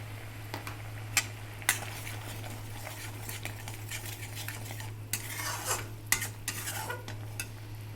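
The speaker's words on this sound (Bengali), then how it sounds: "ঝোলটা ভালো মতো ফুটে গেছে" Prawn malai curry gravy boils in a pan in a kitchen with a faint steady bubbling, broken by sharp clinks and scrapes of a utensil against the pan at irregular moments, nearby and fairly quiet, with no voices.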